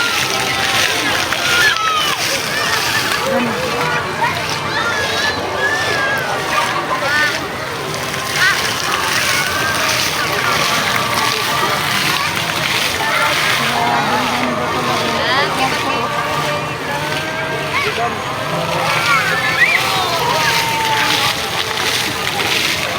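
Water splashes steadily in the fountain at Antipolo Plaza, a constant rushing wash heard among a crowd with people talking over it.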